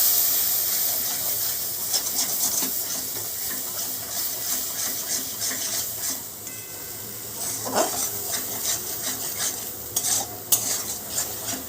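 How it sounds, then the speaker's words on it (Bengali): Chickpeas sautéed with masala and a little yogurt in a pan for chana masala, a continuous hissing sizzle with constant stirring and scraping, a brief metallic clink midway, close and with no voice. "আবার ওইটাকে মশলার সাথে ভালো করে কষিয়ে নেব।"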